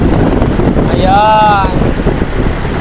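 Heavy wind buffets the microphone on an island-hopping boat off Boracay in rough sea, a loud steady roar of wind and waves throughout, with a brief voice rising over it midway.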